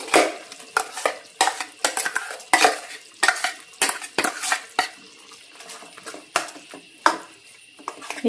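Ground masala being stirred into a Coorg-style chicken curry in a pot, a close series of sharp spoon scrapes and clinks against the pan in an irregular rhythm with wet, thick mixing sounds between, no talking.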